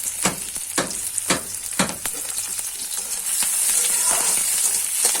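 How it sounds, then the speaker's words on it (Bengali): Sliced onions frying in oil with panch phoron, a close sizzle punctuated by several sharp stirring scrapes, then a steadier, brighter hiss settling in toward the end. "পেঁয়াজগুলো ভালো করে ভেজে নেবো"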